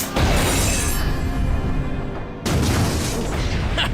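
A loud, sustained explosive roar from an RPG rocket blast shattering a giant cliff face in the Afro Samurai animation, dense and continuous with a sharp cut and renewed burst midway.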